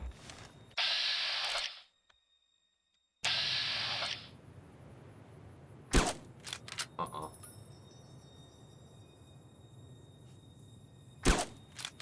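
Two sharp rifle gunshots from Fallout: New Vegas crack out several seconds apart, loud and brief, amid short clattering bursts of gear noise and quiet ambience.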